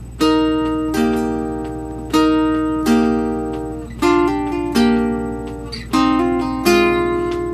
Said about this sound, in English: when they're played together, it sounds like this